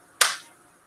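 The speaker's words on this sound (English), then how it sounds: "Raise your hands and clap over your head." A single sharp hand clap made with the hands raised overhead, close and crisp, with a quick decay into quiet.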